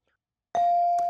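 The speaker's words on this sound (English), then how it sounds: "that's the bell that ends the toss-up round" A single bright bell rings on a high school quiz show to end the toss-up round, a loud sharp strike that rings on as a clear sustained tone, with a second faint tap near the end.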